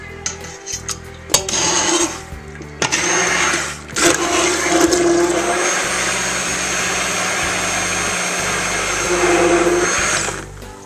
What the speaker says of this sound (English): My oils are all melted down now, so I'm going to add my eggs, and I'm going to blend them up immediately.